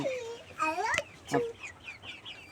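Cock chickens on a poultry farm cluck and squawk nearby in short, overlapping calls, with a faint bit of background noise.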